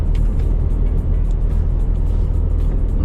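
A truck leaving a village in the evening gives a steady low engine drone and road rumble, heard from inside or close by, continuous and without talk.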